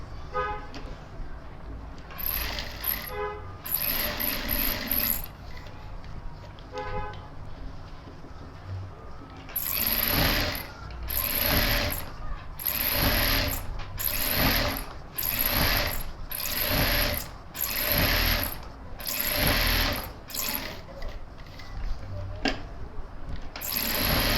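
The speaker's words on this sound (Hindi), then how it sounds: "अब हम यहाँ से सिलाई करेंगे।" A sewing machine stitches a gents suit in quick mechanical bursts, its needle clattering in repeated short runs separated by brief pauses, with a tailor speaking between and over the stitching.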